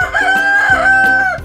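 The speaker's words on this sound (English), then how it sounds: "Rooster." A rooster crows once in a long, loud, harmonic cock-a-doodle-doo that rises and holds, close by with nothing else around it.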